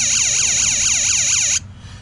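A DIY-installed headlight reminder buzzer wailing in a rapid warbling siren-like pattern, loud and close, then cut off abruptly to a faint hum after about a second and a half.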